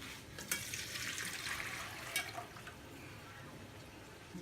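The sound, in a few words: straining yakhni pulao stock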